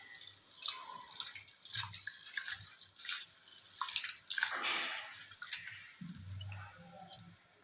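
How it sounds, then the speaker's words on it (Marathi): Water sloshes and splashes in irregular bursts as lentils are swished and rinsed in a bowl, with occasional drips and soft knocks, fairly close. "आता आपण डाळी स्वच्छ पाण्याने धुवून घेऊया"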